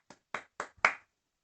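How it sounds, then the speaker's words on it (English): A single pair of hands claps four times in quick succession, sharp, dry and close, with silence after the last clap. "Round of applause."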